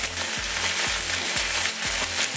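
Vegetables drop into hot frying oil and sizzle loudly up close, a steady hiss with a few soft knocks of stirring or handling.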